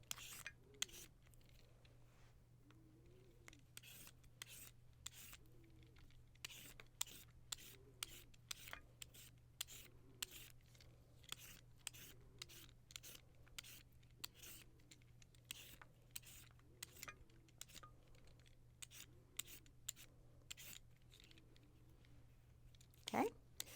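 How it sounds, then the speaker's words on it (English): A cucumber is peeled with a handheld peeler in a kitchen, giving a steady run of short scraping strokes, close and fairly quiet, repeating for about twenty seconds over a low electrical hum. "I'm going to peel the entire cucumber."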